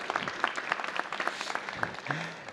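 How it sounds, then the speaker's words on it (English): Light, scattered clapping from a small audience at an entrepreneurship assembly, individual claps distinct and uneven, short and fading near the end. "Round of applause for that one."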